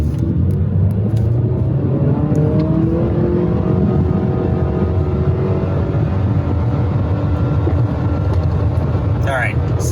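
A 2020 Mitsubishi Outlander four-cylinder engine revs and accelerates hard toward 60 with traction control off, a steady loud drone with rising harmonics filling the whole stretch, a voice talking faintly over it.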